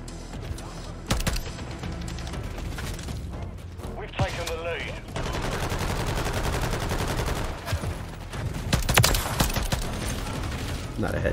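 Rapid automatic fire from a Sidewinder weapon in a first-person shooter, dense bursts with metallic mechanism clicks and game effects, heard close under some talking.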